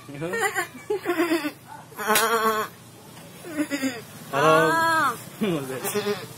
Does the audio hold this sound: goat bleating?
yes